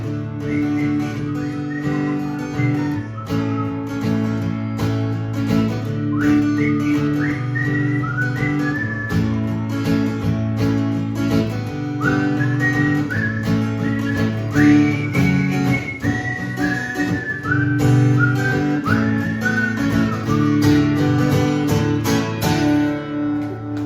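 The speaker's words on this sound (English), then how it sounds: "It's supposed to be a whistle here" Whistled melody carried over a live band in a small club set, the bright gliding pitch line rising above steady instrumental accompaniment, no talking.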